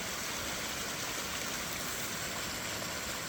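A swollen Kentucky creek rushes past a bridge after flooding, a loud, steady, close wash of flowing water with no breaks.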